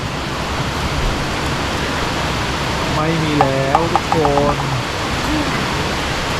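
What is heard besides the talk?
heavy rain at Phu Thap Boek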